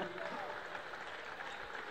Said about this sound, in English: a well-deserved round of applause for the Mayville State starters